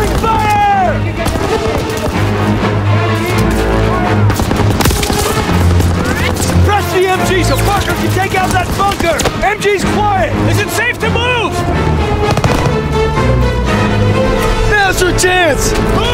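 Call of Duty WW2 battlefield gunfire crackles nonstop, loud and close, with rifle and machine-gun bursts and booms mixed among shouting voices and dramatic music throughout.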